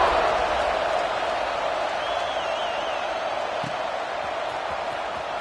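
A college football stadium crowd roars steadily at kickoff in Tennessee's home game against Arizona State. A dense, continuous wash of cheering and applause holds for several seconds with only slight swells.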